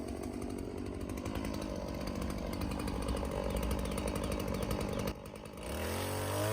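A small Stihl MS 180 chainsaw cuts through a large locust log, its engine buzzing loud and steady with a chattering bite, then briefly dropping off before revving back up near the end.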